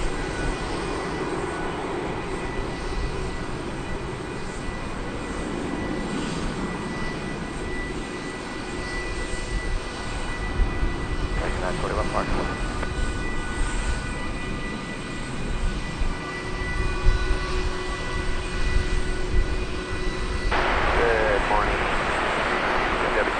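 A Boeing 767 jet airliner rolls for takeoff at DFW Airport, giving a steady, loud engine roar that builds and holds throughout. A voice talks over it and radio chatter is audible.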